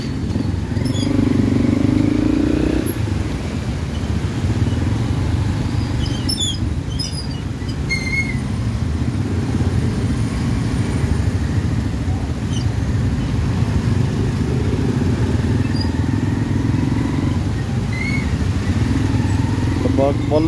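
A motorcycle rides through a rainy Kathmandu traffic jam between Thapathali and Bhaisepati, its engine a steady low rumble mixed with the surrounding traffic noise and occasional faint horns.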